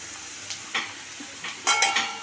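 Onions sizzle in a pan for taro root curry while being stirred, a soft steady frying hiss broken by a few scraping strokes of a spoon against the pan.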